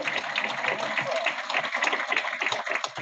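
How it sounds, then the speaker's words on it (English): Applause from attendees at a PMI chapter monthly meeting, a lively crowd of hands clapping steadily at moderate loudness through the whole stretch. "But round of applause again for them."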